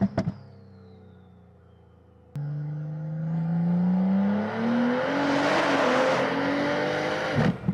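An 800hp BMW M340 with a B58 engine and a big turbo launches into a full-throttle pull, engine tone climbing steadily to a roaring high-rpm peak with turbo hiss, close and loud, no talking.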